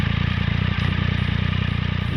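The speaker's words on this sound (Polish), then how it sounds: "że na wolnych obrotach, kiedy odpalimy ten motocykl" A Triumph Speed Triple motorcycle with an aftermarket exhaust idles with a deep, rapid, pulsing thump, loud and close, beating in a steady rhythm throughout.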